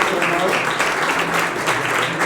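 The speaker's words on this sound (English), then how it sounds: "big round of applause" A workshop audience gives a round of applause, many hands clapping densely and steadily at moderate loudness, with voices faintly mixed in underneath.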